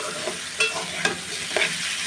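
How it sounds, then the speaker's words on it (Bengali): Cauliflower, potato and carrot with onion and garlic fry in a pan, a steady sizzle broken by three or four sharp stirring scrapes of a spoon against the pan, close and moderately loud. "সবজির সাথে পেঁয়াজ রসুনটা ভাজা হয়ে গেছে"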